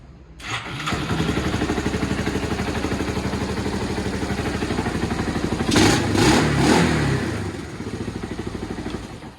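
Small motorcycle engine in need of carburetor work and with a worn clutch starting up and idling, its steady close putter rising in a brief rev in the middle before settling back.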